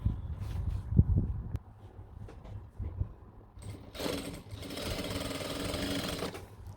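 Sewing machine stitching a farshi salwar, first a few brief thumps and short runs, then a steady, close, continuous whirring stitch from about four seconds to the end, with no talking.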